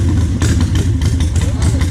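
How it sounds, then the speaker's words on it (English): A 2014 Yamaha Bolt motorcycle engine idles with a steady, loud low rumble throughout, and voices talk over it. "he's going to be riding a 2014 Yamaha Bolt"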